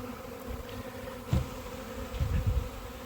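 A swarm of honeybees flying around a hive as they settle in, a steady close buzzing hum with a few louder passes as bees fly near, and no voices.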